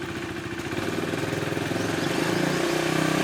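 A KTM RC 390 single-cylinder motorcycle engine running on a paddock stand as it is clutched into first gear, a steady close idle rumble with a slight rise in pitch.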